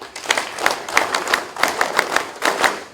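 Audience at a Philippine Army reserve military training opening and closing ceremony gives a short burst of scattered clapping, individual claps audible in uneven clusters, moderately close and not yet a full ovation.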